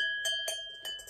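A small bell rings out to mark a finish, with three bright metallic strikes in quick succession that leave a sustained ringing tone between them.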